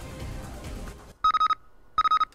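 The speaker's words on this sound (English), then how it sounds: "Oh, phone call." A telephone rings in the Nancy Drew game Shadow at the Water's Edge, giving two bright bursts of rapid electronic trills after a stretch of busy background noise. The ring is loud and clear, with a short silent gap between the bursts.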